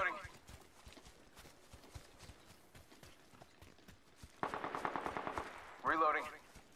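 Rapid gunfire from the video game Apex Legends, a dense burst of shots in the middle followed by a louder volley near the end, with quieter shooting and game noise underneath throughout.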